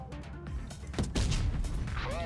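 A heavy cannon-like blast from a 60TP Lewandowskiego tank in World of Tanks Blitz booms amid dense game noise and rumble, followed by sustained clattering and mechanical din.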